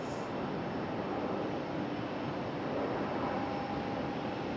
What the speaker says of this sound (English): our second Air Canada flight of the day